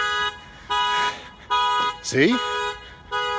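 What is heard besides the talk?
car alarm going off in parking lot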